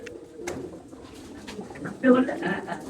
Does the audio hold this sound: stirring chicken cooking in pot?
no